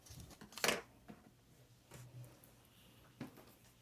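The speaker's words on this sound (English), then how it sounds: "Take my scissors and cut what's remaining." Scissors snip through leftover card paper while trimming a handmade Christmas card, one crisp close cut followed by a softer second snip, with faint handling rustle between.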